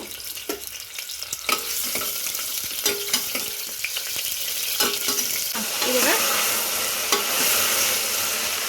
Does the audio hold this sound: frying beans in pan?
yes